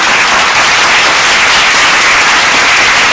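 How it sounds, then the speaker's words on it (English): An awards ceremony crowd claps loudly and continuously, a dense, unbroken wash of applause with no gaps from start to finish. "can you have a loud cheer for Mindshare India"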